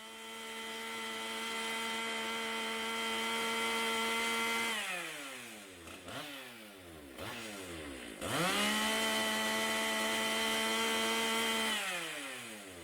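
A professional chainsaw engine screams at high speed, held steady near 13,500 RPM, then briefly bogs and dips in pitch twice before returning to a sustained, close, loud whine.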